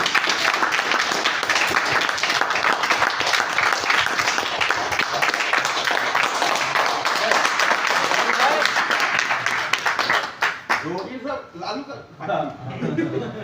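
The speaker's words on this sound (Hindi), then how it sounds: "इनका एक जोरदार ताली।" An audience breaks into enthusiastic applause, a dense wash of clapping that stays loud for about ten seconds, then thins into scattered claps and a few chuckles as it fades.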